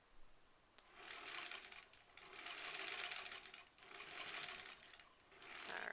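A sewing machine stitches a quilt block in several short, moderately quiet bursts of rapid mechanical whirring and ticking, with brief pauses between runs and no talking.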